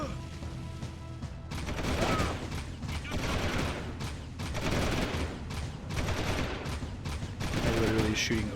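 Rapid bursts of gunfire from the Jak 2 video game during a high-speed chase, dense overlapping shots crackling continuously over a steady mechanical game background, fairly loud and close throughout.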